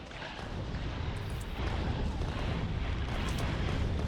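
Explosives detonating in Factorio: Space Age, a continuous heavy rumbling roar of blasts that builds and holds loud throughout, with no clear gaps between detonations.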